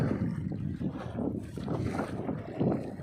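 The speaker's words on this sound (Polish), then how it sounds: "Jesteśmy już pod pełnymi żaglami." A sailboat moves under full sail on a canal and lake route in Poland, with steady wind rushing across the microphone and low water noise around the hull throughout.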